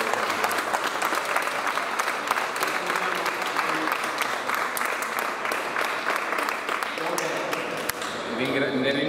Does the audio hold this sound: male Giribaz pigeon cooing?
no